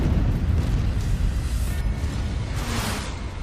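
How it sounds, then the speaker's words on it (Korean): A 450 kg bomb dropped from an aircraft explodes near the Japanese submarine I-70 at sea, a loud sustained roaring rumble with heavy low-end surges and washing bursts throughout, with no talk. "폭발로 잠수함이 심하게 요동쳤고 피해를 입은 잠수함은 잠수할 수가 없었다."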